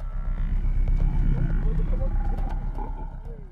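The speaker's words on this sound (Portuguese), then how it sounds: "pude ver centenas de búfalos correndo até o búfalo que estava sendo atacado pelo leão" Lion attacking a buffalo in the African wild: a continuous low roar and rumble with growling tones, fairly loud and close, amid a general din of the herd.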